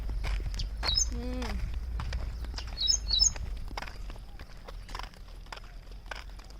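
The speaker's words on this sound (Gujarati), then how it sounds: "ચકલી બોલે સાહેબ" Sparrows chirp in short, sharp bursts outdoors on the way home from a temple outing, a few calls near the start and again around the middle, over steady low rumble and scattered footstep-like clatter.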